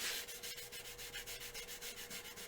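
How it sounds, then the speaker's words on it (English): A hand rubs at a stain on the rim of a bowl with light pressure, a soft, quiet, rhythmic scrubbing repeated in quick even strokes, close up and alone. "that's coming off just with me rubbing it without putting much pressure on"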